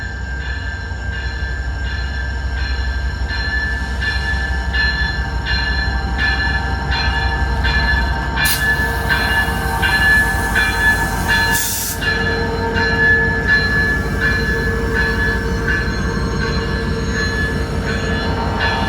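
A train passes at night in a loud, steady stream of rhythmic wheel clatter with sharp metallic squeals from the wheels, plus a brief burst of hissing partway through.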